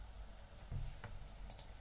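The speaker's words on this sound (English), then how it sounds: "I'm using my keys on the keyboard to move the robot" Computer keyboard keys pressed while steering a simulated robot, a few quiet separate clicks spread out over a faint background hiss.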